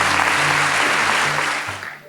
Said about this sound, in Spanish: Denle un aplauso fuerte a la palabra de Dios.